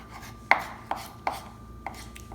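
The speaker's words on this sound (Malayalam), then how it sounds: "ചെറുതായിട്ട് അരിഞ്ഞു വയ്ക്കാം." Knife chopping tomatoes finely on a board, four distinct sharp cuts spaced unevenly, fairly close and moderately loud in a quiet kitchen.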